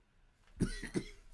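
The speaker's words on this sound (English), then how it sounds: "I'm coughing a bit." Two quick, soft coughs close by, the second following shortly after the first, in an otherwise quiet room.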